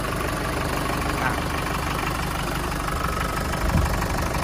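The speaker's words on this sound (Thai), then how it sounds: "ฟังเสียงเครื่องดีเซล" A 2019 Chevrolet Trailblazer 2.5 LT diesel engine idles steadily up close, a continuous low clattering rumble with an even, unbroken texture and a small bump near the end.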